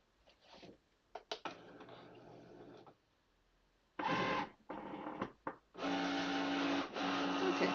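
A Cricut cutting machine scoring and cutting paper with a single scoring wheel and fine point blade, giving bursts of whirring motor and carriage movement, starting and stopping, with louder sustained runs toward the end.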